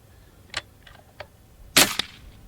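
A hand-pumped Gauntlet .25 air rifle fires several sharp, close cracks spaced about half a second apart, the last one loudest, with a quiet pause between shots.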